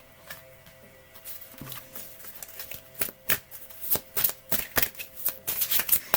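A deck of oracle cards is shuffled by hand: soft riffling and card flicks start quietly and grow into louder, quicker bursts. Close and alone, with no talking.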